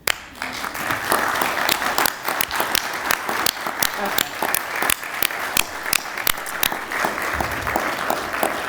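An audience at a congressional recognition ceremony applauds warmly, with dense, sustained clapping from a roomful of people that carries on steadily throughout, punctuated by a few sharper individual claps.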